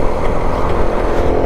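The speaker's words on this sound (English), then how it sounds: "this bike's awesome on pavement too" A cheap adventure motorcycle cruises on pavement, its engine giving a steady, loud, continuous drone with wind rush and no clear gear changes or revving.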